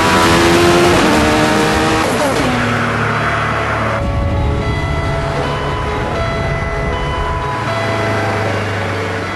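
A Caparo T1 engine revs hard and accelerates loudly and close, with rising and shifting engine pitch as the rear tyres spin and struggle for grip, sustained throughout without talk.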